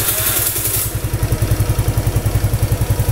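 Suzuki Nex II scooter engine fitted with a new NGK Platinum spark plug starts after a brief whirring crank, then settles into a close, steady thumping idle at a brisk even rhythm.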